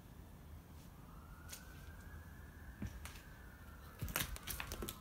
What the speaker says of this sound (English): Can I hear police sirens?